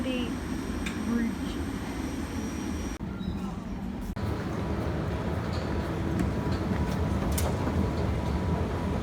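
A train passes steadily on a London rail line, an Elizabeth Line service heading west to Paddington, a sustained rumble with a brief lull partway through and a voice speaking over it.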